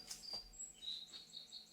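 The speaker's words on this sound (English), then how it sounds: "I don't know if you can hear the birds in the background." Small birds chirping faintly in the background, with several short high tweets scattered across a quiet room.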